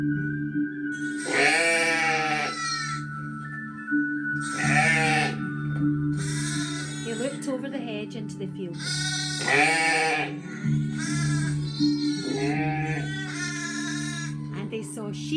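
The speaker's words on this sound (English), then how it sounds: "they saw sheep and lambs gambolling about in the field" Sheep and lambs bleat repeatedly in a farm field in spring, loud and close, in wavering cries spaced a second or two apart, with a voice talking between and over them.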